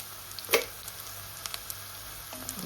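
Fenugreek seeds sizzle in hot oil for a homemade Tamil fish curry, a soft steady hiss broken by a few sharp crackles and pops close by, with no talking.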